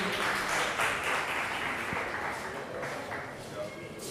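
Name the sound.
audience applauding debate teams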